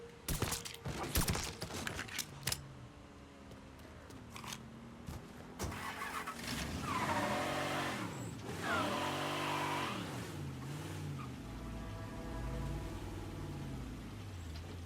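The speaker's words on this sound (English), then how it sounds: "that guy has a hot rod car" Hot rod car in Mafia III: clicks and clunks, then the engine starts and revs in repeated rising-falling swells, ending with a loud low rumble and a high squeal-like tone, close and prominent.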